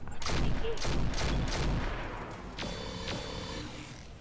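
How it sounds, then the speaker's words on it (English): Turret firing all its weapons at once in the video game Roguepoint, a dense, loud fusillade of rapid shots and booms fading into a lower rumble with a tonal whine, no voice. "firing everything on this turret"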